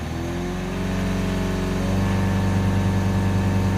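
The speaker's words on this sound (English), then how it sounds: "Let's accelerate it up." A Ford Transit 2.2 diesel engine with an underboost and DPF fault revs up from idle, its steady low drone rising in pitch and settling at a held higher speed, close and loud.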